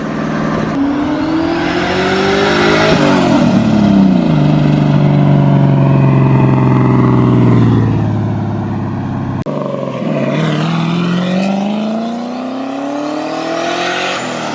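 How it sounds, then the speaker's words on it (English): Street cars at a street car takeover doing smoking burnouts, engines revving hard in long loud surges that rise and fall, with a sharp cut partway and a second car screaming up again. "they're doing burnouts, they're smoking"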